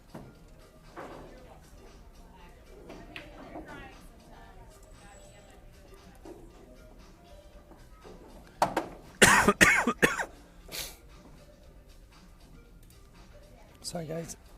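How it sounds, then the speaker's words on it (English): At a pool match, quiet talk gives way to a burst of harsh, loud coughs close to the microphone, several in quick succession, followed by quieter speech. "don't mean to cough in the mic"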